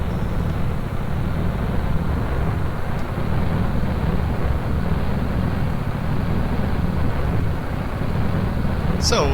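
A delta-wing aircraft takes off in Kerbal Space Program, giving a steady, loud, broad roar of engine and rushing wind that holds constant throughout.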